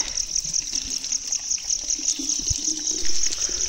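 Cold spring water runs near farm fields in a hill grazing area, a steady, close trickling gush with a bright hiss that stays fairly even throughout, with no talking.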